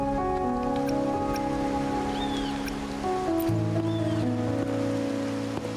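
Steady rain patters in a soft continuous hiss beneath sustained musical tones, with no voices, in the video game Wuthering Waves.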